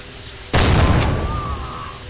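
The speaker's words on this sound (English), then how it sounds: "Shot and explosion went off at the same time." A single sudden explosion in the shooter game Soldier of Fortune II: Double Helix, a sharp loud blast that hits at once and then decays into a long rumbling tail.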